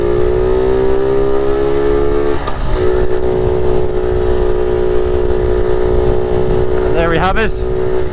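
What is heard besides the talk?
1978 Honda Z50 minitrail motorcycle engine running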